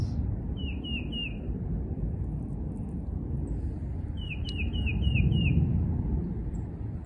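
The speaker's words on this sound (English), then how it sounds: "Where are you, bird?" A small bird outdoors gives two short bursts of rapid chirps, the first brief and the second longer, moderately distant above a steady rumble of wind and background noise.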